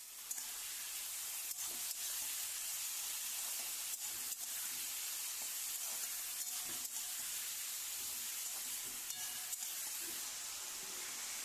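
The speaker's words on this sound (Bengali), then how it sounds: "তেলটা গরম হলে এর মধ্যে আমি আলু পটলগুলো দিয়ে দেব।" Potato and pointed gourd pieces frying in hot oil in a wok give a steady, hissing sizzle with faint pops and occasional stirring clicks, continuous and moderately quiet, with no one speaking.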